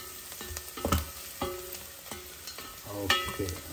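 Chillies, ginger and garlic fry in a pan, a soft sizzle broken by repeated scraping stirs and clinking spatula knocks at an irregular pace, close by with no talk.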